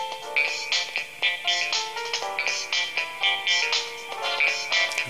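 A phone ringtone plays alone, a bright, busy electronic melody of quick repeating synth notes with a steady bouncy rhythm, close and fairly loud throughout.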